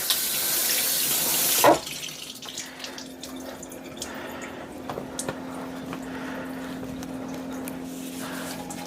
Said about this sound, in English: I'll rinse out his little finger holes here real quick